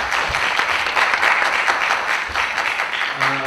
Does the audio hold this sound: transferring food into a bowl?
no